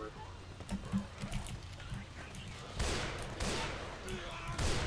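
Gunfire from Left 4 Dead 2 with bursts of shots, louder near the end, heard under ongoing talk from players.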